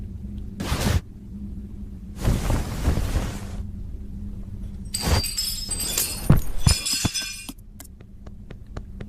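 Glass shatters in a horror video game, heard as several separate crashing, tinkling bursts with a low rumbling background between them.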